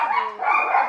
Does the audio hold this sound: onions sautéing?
no